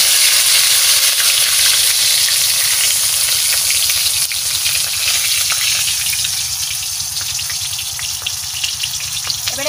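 Tilapia fish sizzles loudly in hot oil in a wok, a dense, continuous crackling hiss that eases slightly as it goes on, with no voices.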